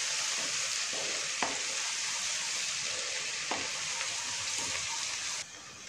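Chopped ginger and garlic, about two tablespoons, sizzle steadily in hot oil in a pan, a dense continuous frying hiss with a few soft clicks of a utensil, fairly close and without talk.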